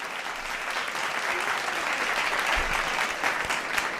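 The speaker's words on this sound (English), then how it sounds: "Round of applauses for Dro and for Frenkie de Jong." Steady applause from an audience acknowledging the football players Dro and Frenkie de Jong, a dense even wash of clapping held at a constant level throughout with no voices on top.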